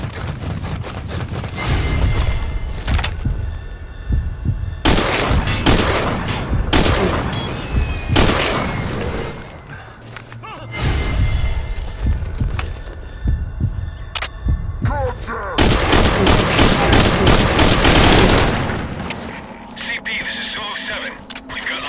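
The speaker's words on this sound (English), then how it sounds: "We've got unidentified gunfire." Gunfire in the video game Metal Gear Solid V: Ground Zeroes rings out in loud, repeated bursts, mixed with a heavy low rumble and radio voices talking throughout.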